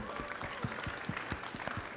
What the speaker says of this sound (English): Round of applause for our opponents.